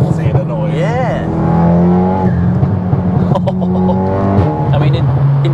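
Tuned 632 bhp front-wheel-drive Cupra 280 revs hard and accelerates through rising, falling engine pitch with sharp gear changes, loud and close from inside the car, while people talk over it.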